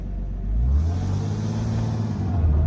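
A manual-transmission Porsche drives with a steady low engine rumble, swelling slightly as it pulls, with a continuous hum of road and cabin noise and no voices.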